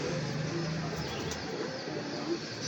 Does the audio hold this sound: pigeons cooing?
yes